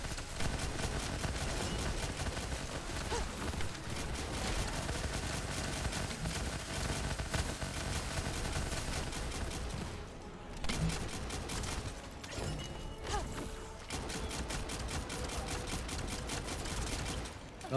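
Sustained automatic gunfire from a gun in the shooter game The First Descendant, dense rapid shots hammering almost continuously, loud and close, with brief pauses near the middle before the firing resumes.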